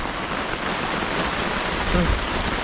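Heavy rain pouring down in a forest, a dense, steady hiss of water that stays even and loud throughout with no pauses.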